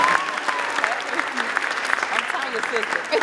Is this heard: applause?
yes